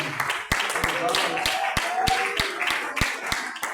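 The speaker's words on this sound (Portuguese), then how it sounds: "as palmas para o Senhor Jesus" A church congregation claps in a rhythmic, steady beat of sharp, distinct hand strikes, with voices and singing-like sounds carrying over it throughout.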